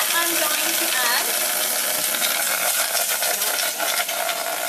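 Frozen mango pieces hit a hot pan and fry with a loud, steady hiss and crackle of steam that carries on throughout, a bright wash of sizzling close to the listener.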